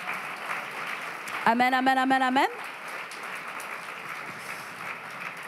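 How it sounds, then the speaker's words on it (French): Church congregation applauding after a sermon, a steady bed of clapping running throughout while a voice chants repeatedly over it for about a second in the middle. "Est-ce qu'on peut applaudir le Seigneur Jésus pour sa parole?"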